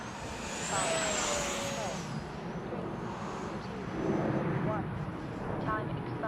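A Freewing Yak 130 RC jet with a 70mm electric ducted fan makes a pass, its whine rising and falling over broad steady rushing noise, heard at a moderate distance.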